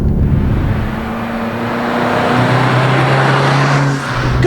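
A cheap old Toyota Corolla drives along back roads, its engine droning steadily and shifting pitch as it pulls along, with constant road and wind noise.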